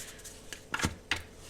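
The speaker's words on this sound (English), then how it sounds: "I'm sorry if the shuffling sounds loud" Oracle cards being shuffled in a few quick riffling bursts, crisp papery flutters with short pauses between them, fairly close and clear.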